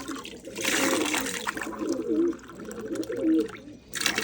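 Water pours into a glass in a rushing burst near the start, then trickles on more softly, with low pigeon cooing running underneath.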